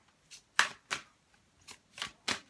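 Large tarot and oracle cards are shuffled in quiet, close riffling bursts, about six short swishes in an irregular rhythm with no talking.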